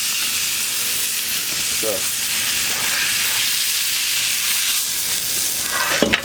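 Ribeye steak searing with garlic on a hot shovel outdoors, a loud, constant close sizzle and hiss, with a brief spoken word near the end.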